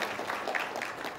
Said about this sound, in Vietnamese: Chúng ta xin hội trường cho một tràng pháo tay để tri ân tất cả các anh chị có mặt trong buổi tối ngày hôm nay.